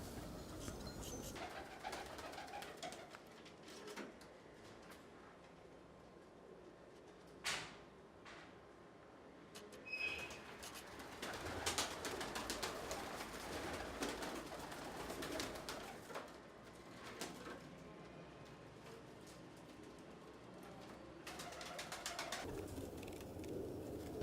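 Pigeons coo on a rooftop loft in a steady scatter of soft calls, with occasional fluttering and a few sharper knocks and clatters at moderate distance.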